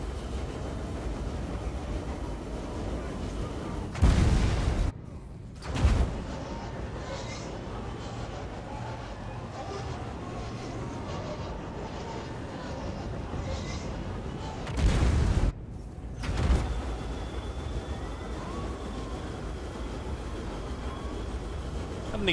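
Explosions in the video game Warriors of Chaos: two heavy broadband blasts stand out, each a sharp boom with a brief rumbling tail, set over a constant dense wash of battle noise.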